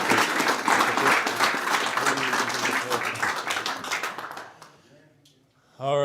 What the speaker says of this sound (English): Big round of applause for Mick Judge again,